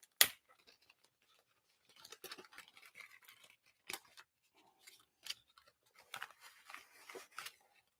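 Scissors snip repeatedly at close range, a run of crisp, faint cutting clicks in clusters with short pauses between them and a sharp tap at the start.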